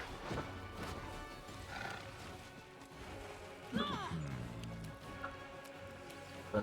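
Horse neighs and clopping hooves in the fantasy RPG Pathfinder: Wrath of the Righteous, with a clear whinny near the middle set over a busy mix of battle sounds and voices.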